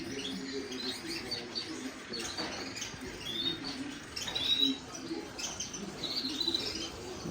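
Small caged birds, canaries among them, give faint scattered chirps and tweets over a quiet room background, with short calls coming at irregular intervals.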